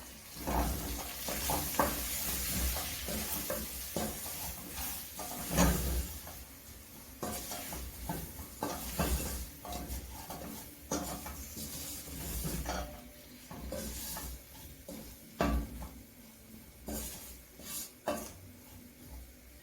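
Kenyan muthokoi mixture with curry powder is stirred in a pot, with a steady soft sizzle and repeated scraping, clinking strokes of the spoon against the pot, close and fairly quiet, with no talk.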